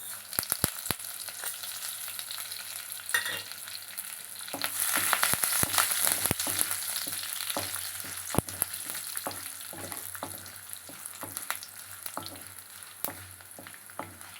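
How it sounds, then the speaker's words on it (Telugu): Tempering spices crackling in hot oil with garlic for an okra and tomato fry, a continuous close sizzle dotted with scattered sharp pops and spoon clicks throughout. "ఇప్పుడు తాలింపులు వేసుకోవాలండి"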